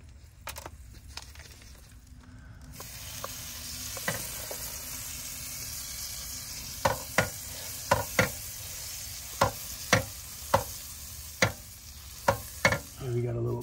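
Butter and pork chops sizzling in a frying pan, a steady hiss and crackle of frying with a series of sharp taps and clinks from utensils against the pan toward the end.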